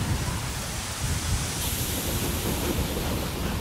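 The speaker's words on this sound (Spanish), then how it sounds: "Y por cierto, está lloviendo." Steady, dense rain hisses evenly throughout in the Rolling Line model railway game, a constant wash of noise with no breaks.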